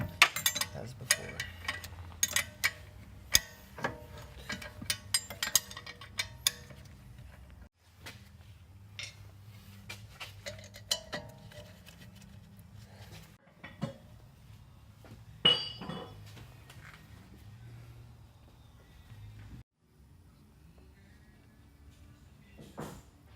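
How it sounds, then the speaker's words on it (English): Rear brake caliper bolts going back onto a Nissan 240SX S13, with scattered metallic clinks and tool clatter over a low steady hum, close by, in irregular bursts. "now we're just installing the last 2 caliper bolts for the rear"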